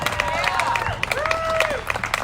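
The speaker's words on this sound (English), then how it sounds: "So one more round of applause for Congresswoman Susie Lee." Audience applause for Congresswoman Susie Lee at a speaking event, a brief burst of clapping from a modest crowd with murmuring voices throughout.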